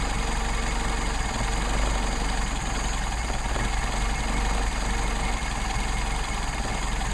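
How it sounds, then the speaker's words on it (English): A Mercedes-Benz 190SL engine with Solex carburetors idling at about 500 RPM, a steady, close rumble with a constant hum that never changes. "So right now we're idling down probably around 500 RPM."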